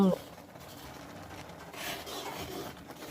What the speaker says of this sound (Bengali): কীভাবে আমি নেড়ে নিচ্ছি আর ছানা দুধটা ভালো করে আমি ফুটিয়ে নিচ্ছি